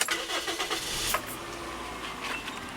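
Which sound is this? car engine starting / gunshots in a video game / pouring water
car engine starting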